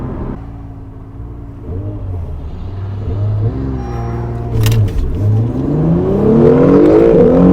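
A tuned supercar engine revs and pulls hard, its pitch climbing in repeated surges as it accelerates through the gears, loud and close with a brief crackle partway through.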